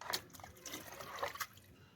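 Water poured onto a potted plant, brief gurgling and trickling splashes in short uneven bursts, fairly faint and close, with no talking.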